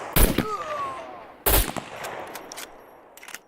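Two sharp, loud gunshots ring out about a second apart in the survival game SCUM, each followed by a decaying echo and a few fainter, distant shots afterward.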